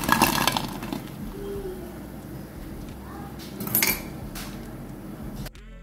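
Crisp deep-fried mangochi snacks clink and rattle against a metal pan in scattered bursts, fairly close, with a faint background hiss.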